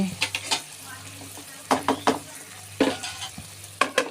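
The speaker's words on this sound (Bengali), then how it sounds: "আমি যেটা করব একটু নাড়ানাড়ি করতেছি বন্ধুরা" Fig curry being stirred in a frying pan, a soft steady sizzle broken by several sharp scraping strokes of a spoon against the pan, close and fairly quiet.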